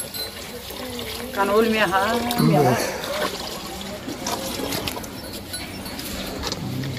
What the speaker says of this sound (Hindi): देखिए ताई जी हमारे गाय को पानी पिलाते हुए